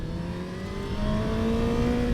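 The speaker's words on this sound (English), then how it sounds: "when you start revving it and getting it going, the bike does have a much better sound" A motorcycle engine revs steadily upward, loud and close, its pitch climbing smoothly with no talking.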